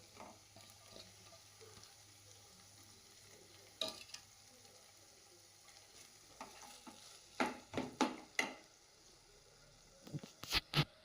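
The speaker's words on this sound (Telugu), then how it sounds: "ఇప్పుడు ఆలు స్మాష్ చేసి పెట్టుకుని వేస్తున్నాను." Mashed potato being stirred into sautéed tomato and onion in a pan, with quiet sizzling and several sharp, close spoon scrapes and knocks in irregular bursts, louder near the end.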